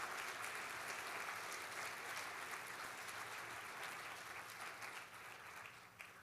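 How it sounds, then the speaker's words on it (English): Sustained, even applause from a conference audience for the league staff, many hands clapping together in a faint, distant-sounding wash that tapers slightly near the end. "Can we just give a round of applause to the league staff for their great contributions?"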